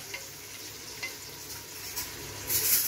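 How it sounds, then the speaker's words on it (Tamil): Onions sautéing in a pan until brown for vegetable biryani, with a soft continuous sizzle, faint stirring ticks, and a brighter hiss rising in the last half second. "வெங்காயம் நல்லா ப்ரௌன் ஆகிற வரையிலும் வதக்கணும்."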